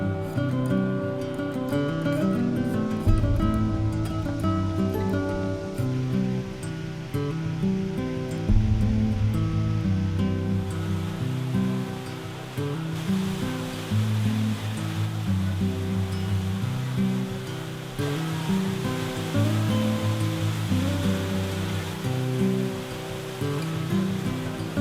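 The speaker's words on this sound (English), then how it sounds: "La Mina is a waterfall in El Yunque and a very popular one." La Mina waterfall in the El Yunque rainforest, a steady full rush of falling water that runs unbroken throughout, with low tones murmuring beneath it.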